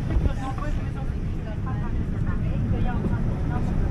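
An airplane in flight, heard from a passenger seat near the wing on approach to Calgary: a steady, loud, broadband engine and airflow roar that holds constant throughout, with faint voices underneath.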